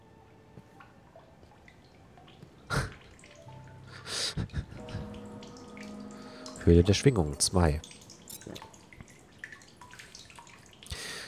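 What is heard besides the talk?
water splashing and dripping in a cave, video game The Solus Project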